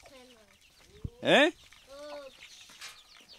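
Free-range rooster in a northeastern Brazilian farmyard makes a short, loud burst of crowing calls, followed by softer clucks, while people talk nearby.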